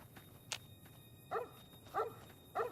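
Three short barks from a small dog in the video game Fallout: New Vegas, at a steady pace, fairly close, with a brief higher yelp before them and quiet between.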